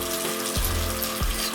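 Running water splashes steadily over a beauty blender makeup sponge under a tap as it is squeezed and rinsed clean, a continuous close wash with two brief squelching surges.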